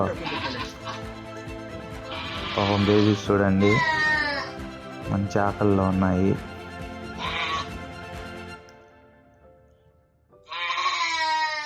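Goats bleat loudly and close by at a goat farm in Kuwait, several drawn-out cries in a row, while a person talks over and between them.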